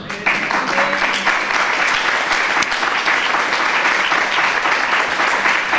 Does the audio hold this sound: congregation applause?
yes